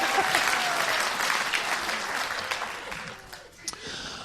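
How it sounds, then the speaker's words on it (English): An audience at a live comedy podcast taping claps loudly for several seconds, the applause thinning and fading out near the end. "Y'all can applaud that if you like."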